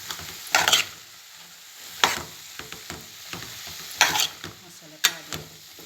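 Masala with asafoetida stirred and fried in a pan for a black chana curry gives intermittent scraping strokes of a spoon over a soft sizzle, close by, with quiet gaps between strokes.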